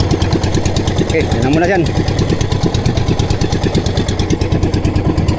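A boat engine idling while it warms up, a steady rapid knocking chug that runs throughout, close and loud, with someone talking over it.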